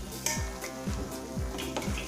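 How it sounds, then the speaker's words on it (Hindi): A spoon stirs roasted spices through a green chili and garlic pickle in a pan, scraping rhythmically about every half second over a steady sizzle, close and alone. "ये सब मसाले डालकर हमने अच्छी तरह से मिक्स कर लेना है।"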